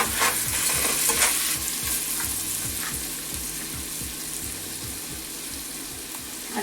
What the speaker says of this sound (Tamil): இந்த பட்டரில் வந்து அது குக் பண்ணி கொண்டிருக்கு